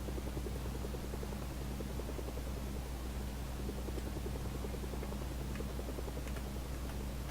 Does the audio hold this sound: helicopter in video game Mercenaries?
yes